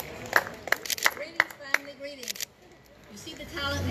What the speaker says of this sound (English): give a nice sashay and a round of applause for her